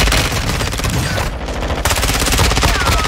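Rapid bursts of automatic gunfire in the Warzone video game, a 9mm weapon firing loud, dense strings of shots with a brief pause midway before the firing resumes.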